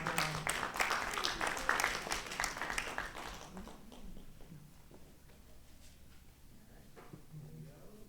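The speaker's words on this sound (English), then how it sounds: "She deserves a round of applause" A small audience at a beautification awards ceremony applauds a nurse, the clapping brisk and close for about three seconds before thinning out to a few scattered claps amid quiet murmuring.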